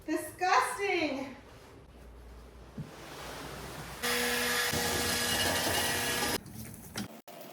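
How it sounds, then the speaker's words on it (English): A floor orbiter machine scrubs a rug, its steady loud whirring drone running for a couple of seconds near the middle. Brief voice sounds come before it, and a clunk follows after it stops. "I bought this orbiter years ago and I used it to scrub floors and spot clean at large carpets in commercial buildings"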